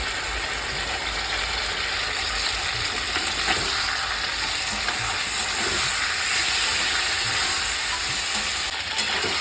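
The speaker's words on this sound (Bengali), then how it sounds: "তারপর আমি যে পেস্টটা করে রেখেছি ওটা দিয়ে দেবো, ওটা দিয়ে কিছুটা কষিয়ে নিতে হবে।" Vegetables with spice paste fry steadily in a pan for shukto, a continuous dense sizzle with faint stirring scrapes, close and even throughout with no voices.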